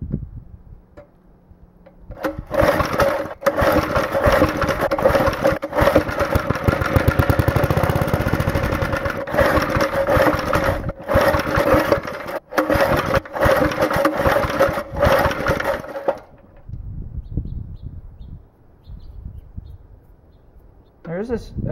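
An old Briggs & Stratton 2 hp engine starts and runs for about fourteen seconds, a loud, close, steady ticking putter with rapid firing pulses, then cuts out and leaves quiet background.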